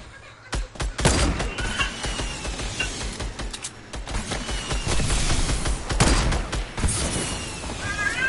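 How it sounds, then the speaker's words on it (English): Rocket launchers fire in a Fortnite battle royale match, a dense run of sharp blasts and booms with crackling impacts scattered across the clip, loud and close, with no voices. "Shoot that rocket."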